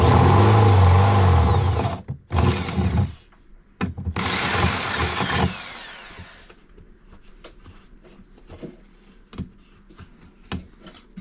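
A drill bores out painted-over 8mm screw holes in a steel boat with loud grinding, whining bursts at close range, broken by short pauses. It then gives way to quieter scattered clicks and taps.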